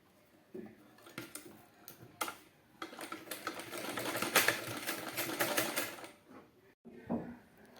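A sewing machine stitches a baby cap, giving quiet, irregular runs of rapid mechanical clatter broken by short pauses.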